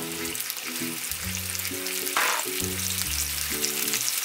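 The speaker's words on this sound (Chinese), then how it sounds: "然后把龙利鱼下锅煎" Basa fish fillet pan-frying in hot oil, a steady close sizzle running under background music with sustained melodic tones.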